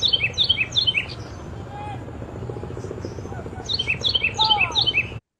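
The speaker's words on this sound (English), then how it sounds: "Bird singing over a helicopter there" Bright, repeated bird song phrases ring out at the start and end, carried over a steady low helicopter rumble that fills the whole stretch.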